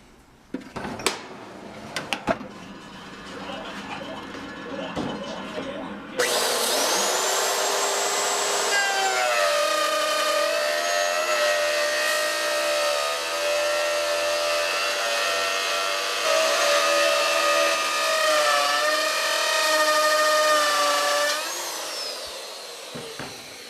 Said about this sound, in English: time to do some routing